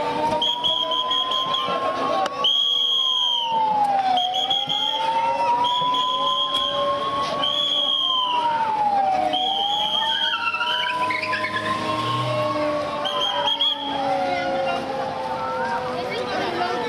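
An emergency siren wails in slow rising and falling sweeps during a public mock drill at the Ramkund area in Nashik, loud and continuous, with intermittent whistle blasts and crowd noise mixed in.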